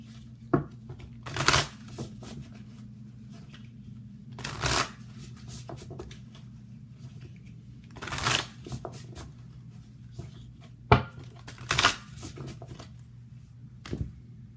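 Whispers of Love angel oracle cards are shuffled in several separate bursts, each a quick riffling flutter, close and clear over a low steady hum, with quiet pauses between.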